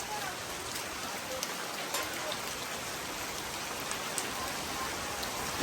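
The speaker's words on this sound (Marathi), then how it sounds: "खूप सुंदर पाऊस लागलाय आम्हाला" Heavy rain pours steadily at the Dhutpapeshwar temple near Ratnagiri, a dense even hiss of drops hitting surfaces with occasional louder splatters, continuous and unbroken across the whole stretch.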